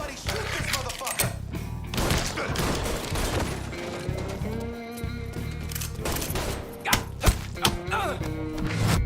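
Gunfire in the video game Mafia 3 comes as scattered thuds and sharp bangs mixed with music and game sound, under a voice, with a few louder shots near the end.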